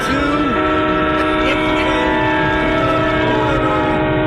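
A train passes through a station, its horn sounding in long, loud, steady tones over the continuous rumble and rattle of the rail cars, with no pauses.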